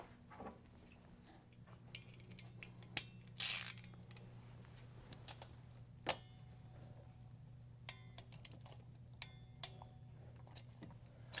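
Scattered sharp ratchet clicks come from a torque wrench tightening the cylinder 3 spark plug on a Chrysler Pentastar 3.6L V6, with a brief harsh burst near the middle, all over a steady low hum.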